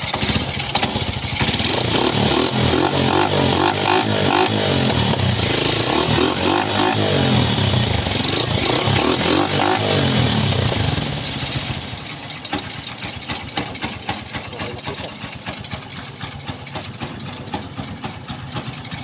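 A freshly rebuilt Honda CB125 motorcycle engine runs loud and rough, then settles into a steady, rapid idle putter for the rest of the clip.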